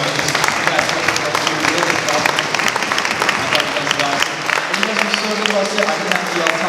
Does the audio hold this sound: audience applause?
yes